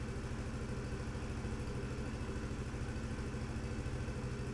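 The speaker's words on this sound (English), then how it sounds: "And the engine starts up. You want to let it idle for a few minutes" A JM50 engine idles steadily after its first start-up, a faint, even, rapid putter with light mechanical clatter and no talking.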